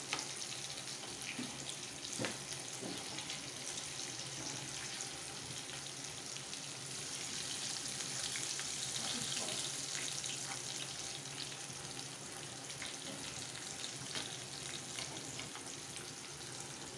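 Fish fries on a tawa with a continuous, even crackling sizzle that stays fairly quiet and unbroken throughout, with a few faint ticks and pops.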